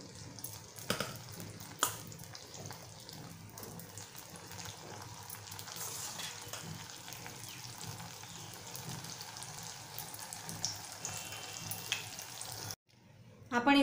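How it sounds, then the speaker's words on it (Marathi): Soybean chunks frying in oil crackle and sizzle steadily and fairly close, with scattered pops and clicks over a constant hiss, and an abrupt dropout near the end. "या पद्धतीने सर्व सोयाबीन आपण तेलामध्ये फ्राय करून घेऊया"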